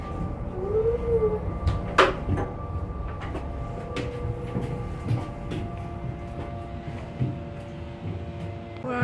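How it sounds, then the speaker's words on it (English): Rumbling tour tram ride at Johnson Space Center, Houston, with steady low engine drone, rattles and clanks, and a brief squeal, no talking. "We're on a tram going on a tour of the Johnson Space Center."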